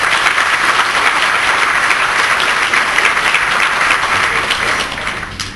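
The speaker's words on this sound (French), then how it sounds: "que je vous demande d'applaudir si vous le permettez." An audience in the French Senate applauds a senator from Pas-de-Calais, a loud, dense and continuous roar of clapping that stays full for several seconds before tapering off at the end.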